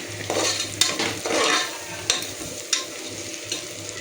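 Onions browning in a pan for mutton biryani sizzle under repeated scraping strokes of a spoon, the stirring coming in close, uneven bursts.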